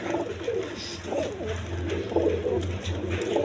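Shirazi pigeons cooing close by, repeated low throaty coos rolling in a steady rhythm, with faint background noise and no clear talk.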